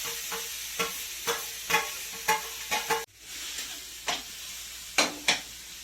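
Grated raw mango in hot ghee sizzles softly while a spoon stirs and scrapes the pan in repeated sharp clicks, close and clear, with no voices.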